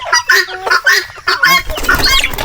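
Native chickens clucking close by in quick, overlapping bursts, several birds calling in short choppy phrases, loud and alone without talk.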